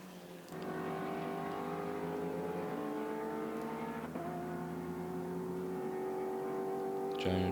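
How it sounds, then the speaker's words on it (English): GT4 race cars including a Mercedes, Jaguar and Porsche on the Nurburgring circuit, a continuous engine drone with shifting gear pitches as cars pull away along the straight toward a chicane, heard from a distance. "Mercedes just pulling away on the straight there, heading up to the chicane."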